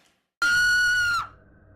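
A high, sustained female scream from girls terrified of a doll in a horror film, loud and piercing for nearly a second, then cutting off into a low hum.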